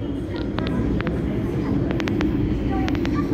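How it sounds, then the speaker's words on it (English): A first-generation M train pulling into a station platform, a steady low rumble of the arriving train filling the scene, with brief higher squeals and clicks over it and voices talking nearby. "There's another train already arriving on the other side. And it is an M train."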